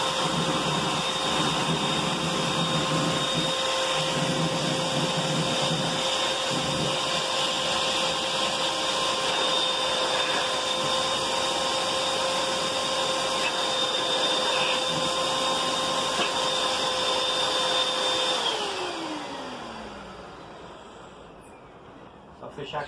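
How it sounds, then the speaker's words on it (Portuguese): Vacuum cleaner blowing air into an air mattress being repaired, a loud steady whine that runs unbroken for most of the stretch, then winds down with a falling pitch as the motor shuts off near the end. "Se você tiver um aspirador de pó, também dá pra usar."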